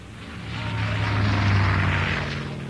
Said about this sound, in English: He was flying the GB Racer, a pudgy barrel of a plane notorious for its deadly stability problems